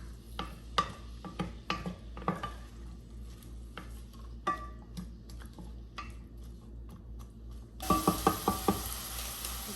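Garlic and ginger sizzle in a pot for lentil soup while a utensil stirs and clinks against the sides; the frying hiss swells noticeably louder near the end, with no talking.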